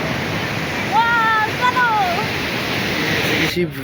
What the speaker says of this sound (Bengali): পুরীর বিচে ঢেউ, ঢেউয়ের সাউন্ড